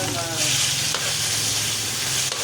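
Tomato and onion sautéing (ginisa) in a pan give a continuous loud sizzle with light stirring scrapes and a couple of brief clicks, a voice briefly audible at the start.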